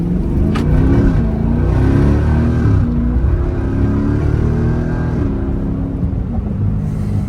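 A Jeep SRT in sport mode with a new motor accelerates at night, its engine giving a steady, loud, close rumble that rises and falls slightly throughout.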